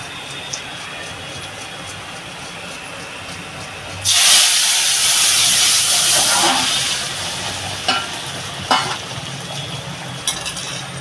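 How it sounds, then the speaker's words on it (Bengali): Curry poured into a hot pan bursts into a loud, close hiss of steam and sizzle that holds for a couple of seconds, then eases into quieter bubbling with a few utensil knocks. "তরকারিটাকে ঢেলে দেবো"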